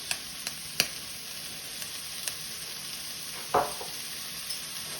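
Steady sizzling hiss of food with fennel seeds frying in a pan, with a few sharp clicks and a brief louder burst of crackle near the end.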